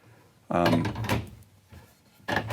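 A solid maple slab cabinet door in a 2019 Renegade Classic 40-foot motorhome opens and closes with two close wooden thunks, one near the start and one at the end, with some faint talk between them.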